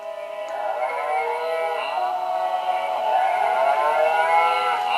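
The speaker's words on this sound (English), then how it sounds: "it's a noisy book, so I'm going to go ahead and play some of the noises for you" A noisy baby book plays electronic farm animal noises, drawn-out mooing tones with wavering pitch, continuous and fairly loud with no talking.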